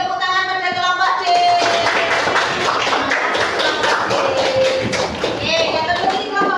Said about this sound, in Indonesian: beri tepuk tangan pada kelompok C